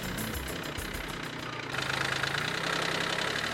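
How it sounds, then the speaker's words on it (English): Small, light tractor engine idling steadily on a residential work site, a continuous mid-pitched knocking drone that grows a bit louder partway through, no voices. "This is the tractor we use for residential sites"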